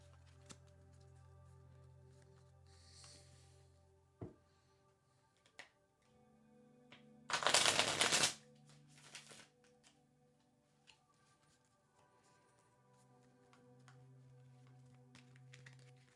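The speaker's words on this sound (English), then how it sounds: "I will do my shuffle thing here." Tarot cards are shuffled in one brief, loud riffle burst amid quiet room tone, scattered soft taps and faint background hum.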